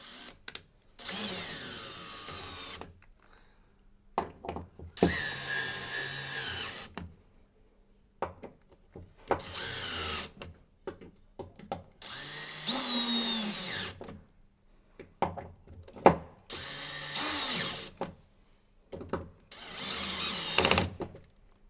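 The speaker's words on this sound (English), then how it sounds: "We'll then switch to torque on the drill, the highest torque level on your drill" Power drill set to its highest torque tightening the body bolts of an Aladdin EasyFit isolator valve: six separate loud whirring bursts, each a few seconds long, with short quiet gaps between them and no talking.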